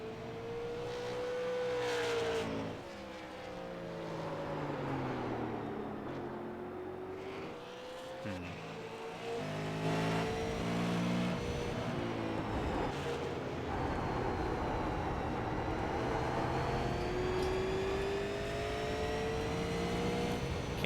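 A Super Late Model race car engine in iRacing at New Smyrna Speedway revs continuously, its pitch rising and dropping as gears shift, a steady loud drone with no talk.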